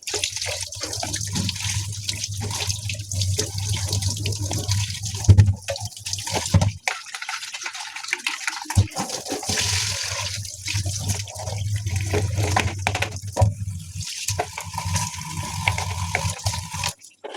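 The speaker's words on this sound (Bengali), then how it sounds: "ঝুড়ির মধ্যে দিয়ে ডলে ডলে ধুয়ে নেব" Running tap water pours steadily into a basket as cut mourala fish are rubbed and washed, a continuous loud splashing stream with a short break and shifting gurgles as the fish are handled.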